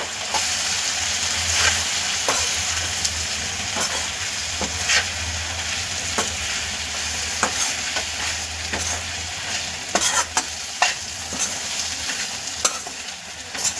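A spoon stirs crushed leftover chapati and coriander in a hot pan, with steady scraping strokes over a soft sizzle, close and continuous with no talking.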